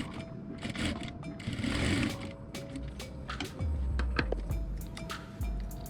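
Sewing machine stitching a blouse, a steady close whirring run with brief pauses, mixed with handling clicks and a low hum.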